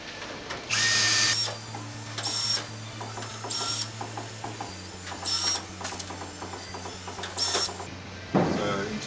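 A power driver sets screws into a RolaCase RSPEP/CDH/4 wire spool rack in about five short, close whirring bursts, with a person talking between them.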